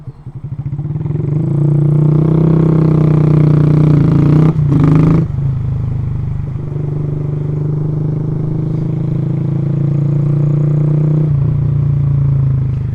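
Honda Grom motorcycle engine runs steadily close by, a loud buzzing single-cylinder idle with a brief dip and clatter midway, then settling back to a constant drone.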